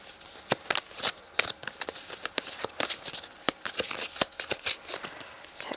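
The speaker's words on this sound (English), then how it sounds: "So here we go, shuffling." A deck of cards being shuffled by hand, quiet and close, with a rapid irregular series of crisp riffling flicks and soft slaps and no talk.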